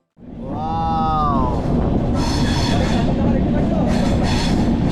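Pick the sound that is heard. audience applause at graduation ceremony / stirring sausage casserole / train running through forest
train running through forest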